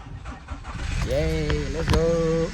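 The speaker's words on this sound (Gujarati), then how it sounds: "હવે ચલો એન્જિન ચાલુ કરો" A car engine cranks briefly, then catches and revs up into a steady, close idle that continues to the end.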